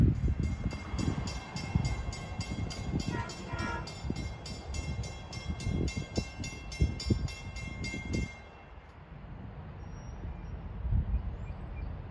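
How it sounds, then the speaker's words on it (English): A Long Island Rail Road train passes close trackside between Patchogue and Speonk, loud rumbling and rhythmic wheel clatter with squealing high tones, cutting off abruptly as it clears, leaving quieter ambience. "And right behind him is train 45."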